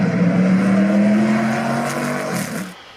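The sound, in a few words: car approaching quickly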